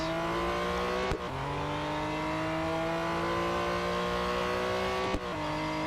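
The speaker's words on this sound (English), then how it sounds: "look how that car slides." A race car in the Real Racing 3 video game holds a loud, steady engine drone while sliding, with two brief sharp breaks as the pitch drops and climbs again; no one speaks.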